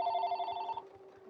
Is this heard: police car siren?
no